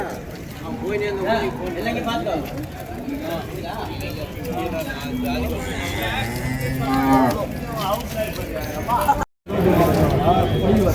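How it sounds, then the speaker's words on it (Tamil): Cattle at a busy cow market in Vaniyambadi, Tiruppattur district, including a pregnant HF cow, low moos repeating through steady crowd chatter and market noise, with a brief dropout near the end. "சினை மாடு நல்லா சூப்பராக இருக்குது பாருங்கள்"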